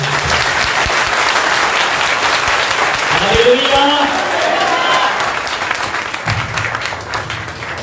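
Loud, sustained applause from a church congregation at a Sunday prayer service in Dubai fills the room, with a voice calling out over the clapping before it thins toward the end.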